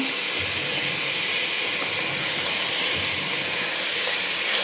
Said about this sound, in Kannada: ಇವಾಗ ಈ ಹೆಚ್ಕೊಂಡಿದ್ದ ತರಕಾರಿನೆಲ್ಲ ಹಾಕೋತಾ ಇದ್ದೇನೆ